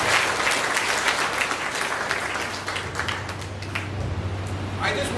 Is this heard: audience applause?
yes